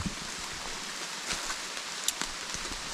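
Steady rain falls in soft, continuous patter, with a few sharper drops striking a surface nearby and no voices.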